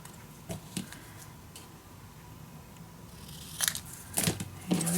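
Scissors snip through a paper piece for a scrapbook mini album, several crisp close cuts with soft paper rustle between them, a cluster of sharper snips toward the end.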